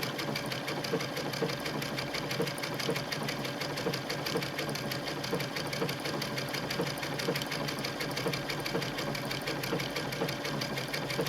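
A Baby Lock sewing machine runs steadily, stitching a scallop pattern with a fast, even mechanical whir and needle chatter that stays loud and constant throughout, with no talking.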